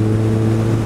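A motorcycle engine revs steadily between about 3,000 and 4,000 RPM between gear shifts on the road, giving a continuous, loud droning hum with a strong steady tone and no pauses.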